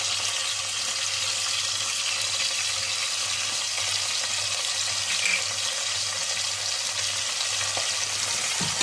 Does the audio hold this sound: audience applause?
no